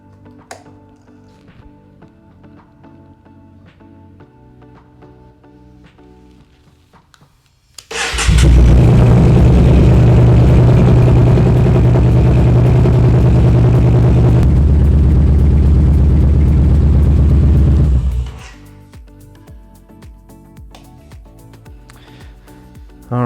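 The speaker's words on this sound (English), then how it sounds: "now it's time to start the bike" A Yamaha Bolt motorcycle engine cranks and fires, then runs at a loud, steady idle for about ten seconds before shutting off. Quiet ticking and light tapping are heard before and after.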